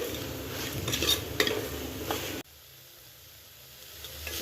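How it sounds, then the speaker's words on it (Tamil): Vegetables for brinji rice get stirred with salt in a cooking pot: a soft sizzle with scraping and a few utensil clinks for about two seconds, then an abrupt drop to near quiet as the stirring stops. "இந்த ரைஸ்க்கு தேவையான அளவு உப்பு சேர்த்துக்கலாம் இதையும் நல்லா மிக்ஸ் பண்ணிக்கோங்க"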